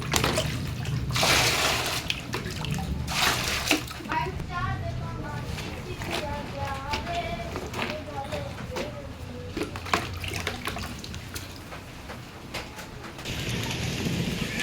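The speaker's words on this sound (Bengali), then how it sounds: "পানি তো ভিতরে পড়ছেই বৃষ্টি মরে মুরগি পালা কষ্ট পানি ভিতরে গেছে তাহলে আর কি হইলো এই যে বৃষ্টি নামছে" Rain pours steadily in a rural yard where chickens are kept, a continuous broadband hiss with water splashing onto surfaces, running under frequent talk throughout.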